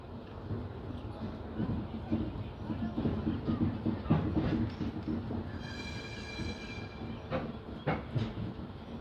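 Lalkuan–Bandra superfast express running on rails after leaving Lalkuan, a steady loud rumble with clattering wheels and a brief high squeal, heard from inside the train with someone talking over it.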